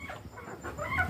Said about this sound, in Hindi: ये अंडा देने वाली सोनाली मुर्गी पालन किया है हमने अभी तक